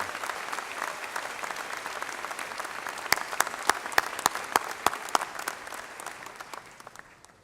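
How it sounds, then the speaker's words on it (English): Commencement audience applauding honors graduates, a broad distant wash of clapping with a run of sharp, close single claps in the middle before the applause thins out and fades. "Ladies and gentlemen, join me in applauding these outstanding students."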